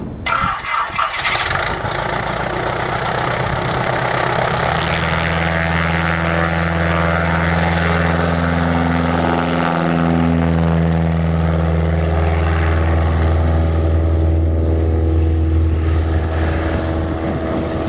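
A propeller bush plane on rough Alaskan tundra produces a loud, close engine drone that rises in pitch and holds a steady buzzing roar as it revs for takeoff, with no voices over it.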